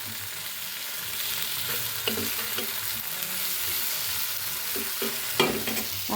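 Finely chopped tomatoes frying in a pan give a continuous soft sizzle, broken by a few louder spatters and scrapes of stirring, close by and moderately quiet with no voices.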